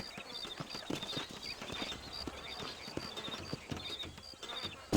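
Horses' hooves clip-clop in the Red Dead Redemption video game, a quiet, rhythmic series of hoofbeats on the trail with faint chiming in the background, ending in a sudden loud thump.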